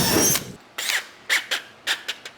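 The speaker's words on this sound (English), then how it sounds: "let's drill some holes. Pilot hole," A power drill with a step drill bit bores pilot holes for an S10 build, a short whining burst followed by several quick, sharp squeals spaced apart, close and fairly loud.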